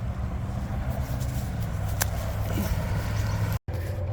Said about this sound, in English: sorry about the noise, but yeah, there's a big highway over here